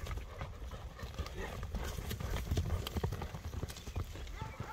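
A horse's hooves clip-clop at a steady walking rhythm, fairly quiet and mid-distance, with people talking nearby.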